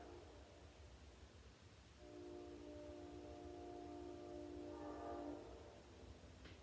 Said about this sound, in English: My window's open so you can hear the train, I'm sure.